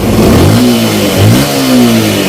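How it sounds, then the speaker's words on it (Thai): A Yamaha M-Slaz motorcycle, freshly repaired with a new head cover, reset ECU and new charging system, revs hard toward ten thousand rpm in a workshop, its engine note rising and falling in loud, close blips with no talk. "เร่งแตะหมื่นรอบเลยขึ้นได้เลยครับ"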